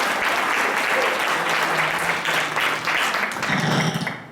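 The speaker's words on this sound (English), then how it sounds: "let's give her a round of applause" An audience claps in a dense burst of applause that holds steady and then starts to thin out near the end.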